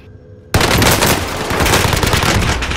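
Submachine gun fire erupts in a video game, a loud sustained burst of rapid automatic shots starting abruptly after a quiet moment and continuing steadily to the end.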